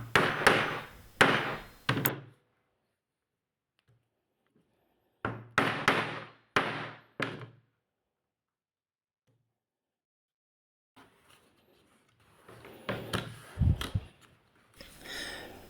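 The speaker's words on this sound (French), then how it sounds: "Grâce à un emporte-pièce rond, je vais maintenant percer les deux trous qui serviront à poser le fermoir à l'une des extrémités de la lanière." A round leather punch is struck by hand to pierce holes in a leather strap, giving clusters of sharp, close thuds, several blows in quick succession, separated by quiet pauses, with softer handling taps toward the end.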